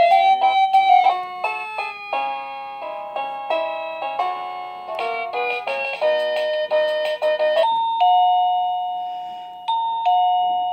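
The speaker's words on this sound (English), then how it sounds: "So that is the different chimes" A Smart Dude wireless doorbell cycles through several chime melodies, bright electronic tones stepping in quick tuneful sequences before settling into longer sustained ding-dong notes, close and clear with no talking.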